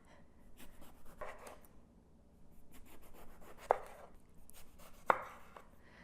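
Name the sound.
knife slicing eggplant into rounds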